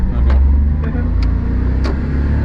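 A Honda Vamos kei van driven on backcountry roads, engine droning loud and steady from inside the cabin with a few brief clicks and knocks over the hum as it pulls.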